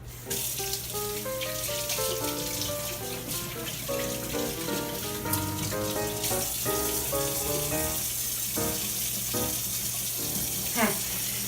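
Running tap water splashes into a kitchen sink while hands are washed, a continuous close wash of water with uneven splashing and a low hum underneath, and no talking.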